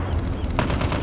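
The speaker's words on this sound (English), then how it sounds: "Sentry gun deployed." An automated sentry gun fires in the Call of Duty Mobile video game, sending out a fast, continuous burst of gunfire with a few sharper cracks, loud and close, with no talk over it.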